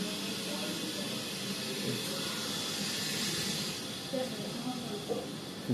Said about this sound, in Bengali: এই যে মশলা ফ্রাই করছি